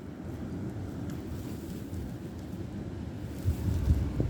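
Strong wind gusts ahead of an incoming snowstorm, 50-60+ mph, roar as a steady broadband rush outdoors, swelling into a harder gust near the end, with no voices.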